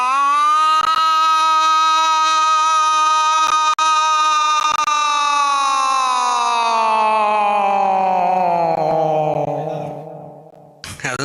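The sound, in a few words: voice imitating another kind of siren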